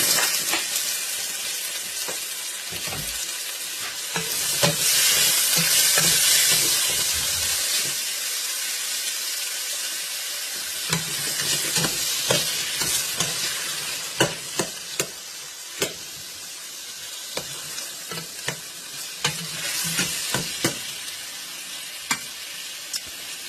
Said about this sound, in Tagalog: igigisa muna natin siya sa garlic, onions, ginger, and tomato